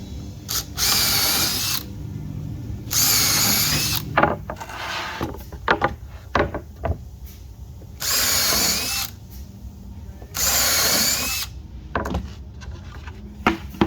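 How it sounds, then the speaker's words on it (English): Several bursts of a power drill driving a 5/16-inch bit through material, each lasting a second or two, separated by clicks, handling clatter and short pauses. "It's a 5/16 drill bit"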